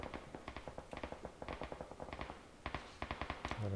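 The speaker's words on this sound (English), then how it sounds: "So there's lots of shots from south." Distant gunshots in PUBG, a steady patter of many faint, sharp cracks in quick irregular succession, continuing throughout.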